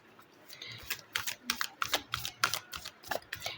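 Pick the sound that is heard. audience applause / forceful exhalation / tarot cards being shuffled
tarot cards being shuffled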